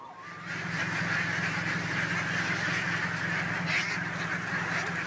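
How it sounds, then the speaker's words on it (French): Dense, continuous chorus of many ducks quacking together, steady and fairly loud throughout, like a large flock at close range. "il n'est plus rare d'apercevoir de grandes fermes de canards"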